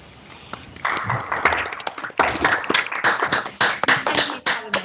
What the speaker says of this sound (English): give a round of applause to Sammy